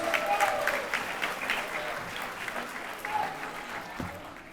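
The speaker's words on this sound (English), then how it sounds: "Can we give our superintendent, Roger Leone, another round of applause?" Graduation ceremony audience applauding in a large hall, a steady wash of clapping that swells early and then holds at a moderate level, with a few voices faintly mixed in.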